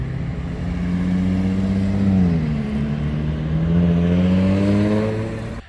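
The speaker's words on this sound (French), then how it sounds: "Gran Turismo et une F-Type assez énervée là" A Jaguar F-Type sports car revs hard nearby, its engine note climbing and dipping in a sustained snarling drone with harmonic sweeps, no talking.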